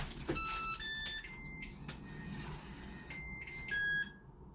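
Yale Conexis L2 smart lock on a door giving a series of short electronic beeps and two-tone boops in a quiet room, several tones spaced across a few seconds, clear and close.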